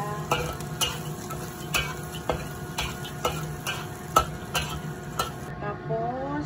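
Garlic stirred into browned meat in a pan for eggplant adobo, with a spatula tapping and scraping the pan in steady close strokes over a soft sizzle, and no talking.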